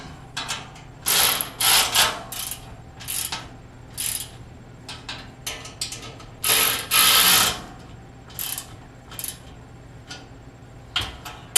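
A ratchet wrench tightens bolts on a Harbor Freight welding cart being assembled, in short bursts of fast clicking with quiet gaps between strokes, close and clear with no voices.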